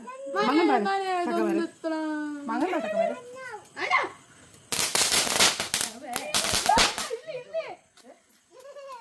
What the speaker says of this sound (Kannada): ಏ ಅಲ್ಲಿ ಲಕ್ಷ್ಮೀ ಪಟಾಕಿ ಚಟ್ ಮಾಡ್ತಿದ್ದೆ.